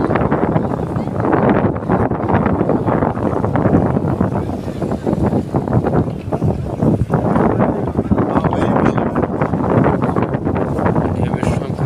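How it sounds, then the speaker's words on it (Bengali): A strong southern sea wind blows at a beach, roaring steadily and buffeting the microphone at close range with constant rumbling gusts. "এখন পুরোপুরি দক্ষিণের বাতাস"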